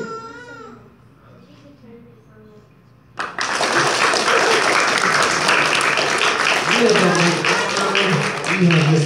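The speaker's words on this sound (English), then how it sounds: "the next time he does it to a tremendous round of applause" After a few quiet seconds of talk and a voice, a large audience at a library magic show bursts into loud, sustained applause that continues to the end.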